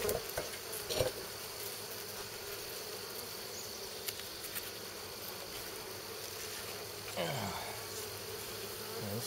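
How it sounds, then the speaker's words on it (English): A dense, steady buzz of many honey bees fills the air up close, with occasional faint knocks and handling sounds. "Pretty good amount of bees, I think."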